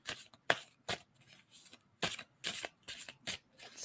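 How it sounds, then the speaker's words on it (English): Tarot cards shuffled by hand in a steady series of crisp, papery riffling bursts, close and fairly quiet, with brief gaps between each pass and no talking. "tell me when I should stop shuffling on that"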